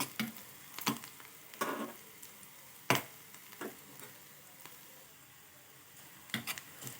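Pasta frying in a pan with salt and chili powder, no sauce, giving quiet scattered sizzles and occasional sharp stirring clicks, faint and close, with no talking.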